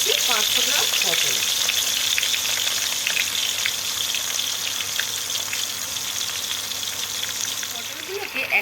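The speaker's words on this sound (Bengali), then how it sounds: "তেল গরম হয়ে গেছে। এবার পটলগুলো ভেজে নেব।" Pointed gourds, about 500 grams, fry in hot oil in a wide kadai, giving a loud, steady sizzle that crackles and gradually settles, with occasional stirring noises.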